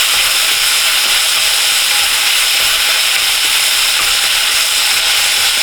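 Beef sears loudly in a very hot pan for chili, a dense, steady sizzle and hiss running throughout with no talking.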